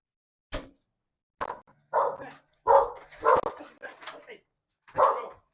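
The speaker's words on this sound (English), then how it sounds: "That big ass dog, bro." A big dog barks in a handful of loud, separate outdoor woofs spread over several seconds, with people talking nearby.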